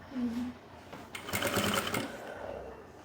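Sewing machine stitching Korean-style pants, a fast run of rapid mechanical stitching of about a second, with someone talking quietly before and after.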